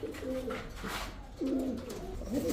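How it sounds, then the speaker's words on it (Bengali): Racing pigeons coo in a cage, with repeated low, throaty coos rising and falling across the stretch, close by over a steady background hum. "কি সুন্দর কবুতরগুলা"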